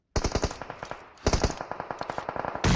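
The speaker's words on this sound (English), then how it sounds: "Lots of gunfire sounds here as well" Rapid automatic gunfire in a PUBG Mobile esports match, two dense bursts of loud, evenly spaced shots separated by a brief lull, with another burst starting at the end.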